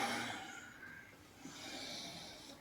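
A slow, soft exhalation during yogic Ujjayi breathing, a quiet, airy, slightly throaty rush of breath heard close and alone with no talking.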